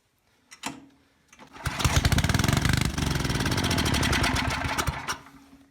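The Tecumseh engine on a 4000-watt Wilco generator gives a brief pop and sputter, then catches. It settles into a loud, close, steady running roar, heard on its own.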